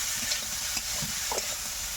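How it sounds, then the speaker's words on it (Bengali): Jackfruit pitha filling frying with sugar in a pan, a steady close sizzle with light stirring scrapes throughout, no voices. "চিনি দিয়ে ভাজবো আমি"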